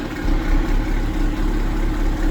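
A BMW N54 engine with a ghost cam tune idles nearby while warming up on a cold day, a steady, lumpy low rumble that pulses slightly, heard alone without talk.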